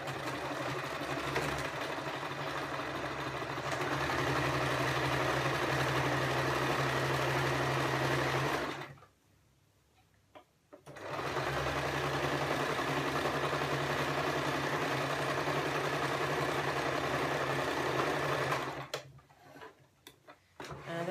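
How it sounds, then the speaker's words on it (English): A sewing machine runs steadily along the edge of a fabric shopping bag, a fast, even mechanical ticking hum that stops briefly midway, starts again and then halts near the end. "So I'm just going to sew at the width of my presser foot"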